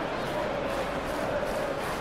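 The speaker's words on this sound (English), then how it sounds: "Now the crowd are demanding that they just finish this off." Steady roar of a stadium crowd in the soccer video game PES 21, a dense continuous wash of distant voices at even loudness with no breaks.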